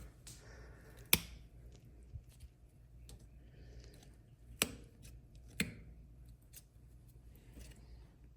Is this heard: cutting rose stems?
yes